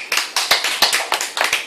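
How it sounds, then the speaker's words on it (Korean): A small group claps in a classroom lecture, quick rhythmic bursts of hand claps repeating steadily and fairly close, with no talk over them. "박수."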